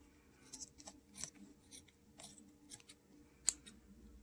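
Scissors snip paper for a DIY makeup box craft, several close, quiet crisp cuts in an uneven rhythm with one sharper snip near the end.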